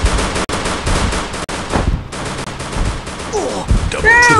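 Rapid bursts of gunfire and automatic weapon fire crackle through a shooter video game match, loud and dense, with brief gaps and a few electronic effects near the end.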